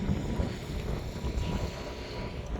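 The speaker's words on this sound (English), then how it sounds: "It's been fierce wind all day." Strong desert wind in Quartzsite buffets the microphone in continuous rumbling gusts, loud and close, with no speech.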